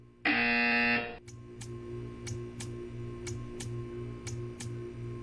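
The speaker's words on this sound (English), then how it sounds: "You will hear a buzzer." A loud electronic buzzer blares for about a second, followed by a low hum and a steady series of faint clicking ticks, in the video game Portal 2.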